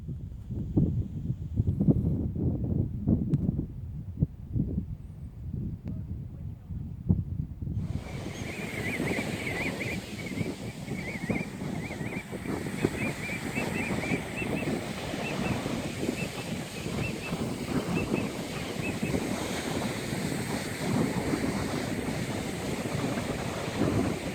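Steady ocean surf and gusting wind at the beach on Assateague Island, Maryland, a continuous broadband wash with heavy low rumble of wind buffeting the microphone, no voices.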